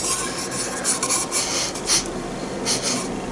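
Wooden cutting board being rubbed, a close, dry rasping scrape repeating in uneven strokes with no voices.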